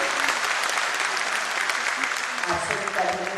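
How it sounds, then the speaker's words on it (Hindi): Audience at a Bihar energy department inauguration and foundation-stone ceremony bursts into sustained applause, a dense, steady wash of clapping from many hands that carries on to the end. "एक जोरदार ताली आप सभी की तरफ से"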